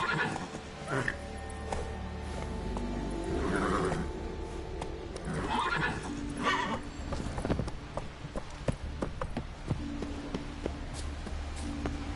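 A horse in The Witcher 3 neighs and clip-clops along in-game, hoofbeats steady beneath a voice urging it on, with game music and ambience behind.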